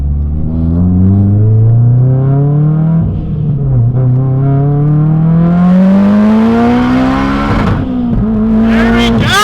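A car engine revs hard and climbs through the gears, its pitch sweeping upward in long rising pulls with brief dips at each shift, loud and close from start to finish.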